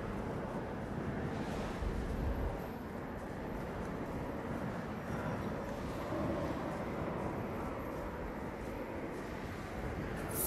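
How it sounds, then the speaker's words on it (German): Steady, dense wind noise from a snowstorm in the video game Journey, a continuous loud broadband roar that holds without pause throughout, with no voices. "Und der Wind erleichtert unsere Aufgabe nicht wirklich."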